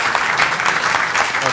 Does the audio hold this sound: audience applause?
yes